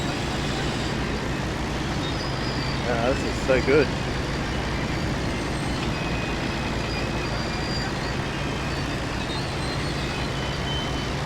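A farm truck engine from Farming Simulator drones steadily in a low, noisy rumble, with a brief beeping burst partway through while someone speaks a few words over it.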